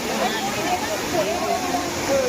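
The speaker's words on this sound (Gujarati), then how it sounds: "ઉપરથી પાણી પડે મિત્રો." Water falls from above into the Yamuna at a crowded Vrindavan temple site, a constant loud rushing wash heard under nearby crowd chatter and voices.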